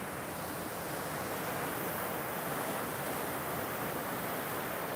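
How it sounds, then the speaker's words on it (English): Water waves lapping into rock kettles in the bedrock, heard as a steady, dense wash of surf noise with some wind and no speech. "the water's lapping into the kettles right now"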